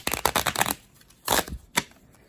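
Lenormand cards being shuffled by hand, a rapid riffle of papery flicks followed by two shorter bursts of shuffling, close and clear with no talk.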